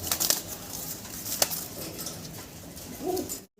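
Fancy pigeons coo softly, with a brief flutter of wings and some rustling, heard fairly close against a quiet background.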